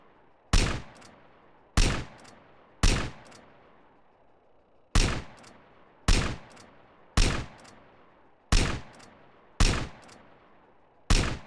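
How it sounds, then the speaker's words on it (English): Country rifle shots in a GTA video game ring out, ten sharp loud blasts at roughly one-second intervals with brief pauses between, each followed by a short decaying tail. "it takes 2 shots to kill them with a fucking rifle"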